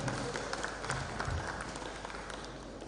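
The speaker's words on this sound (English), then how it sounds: "Please clap for him." An audience at an international labour arbitration forum applauds the Nigerian Law Congress president, a steady, moderately distant patter of many hands clapping that thins slightly toward the end.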